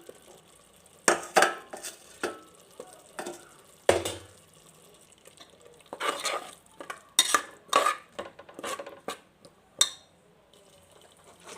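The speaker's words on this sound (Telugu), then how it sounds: "ఇప్పుడు మనం కట్ చేసి పెట్టుకున్న పొటాటోస్ వేద్దాం." Cut potatoes tumble into a pan of simmering masala, followed by scattered clinks and scraping of a spoon stirring, with quiet gaps between the sharp kitchen sounds.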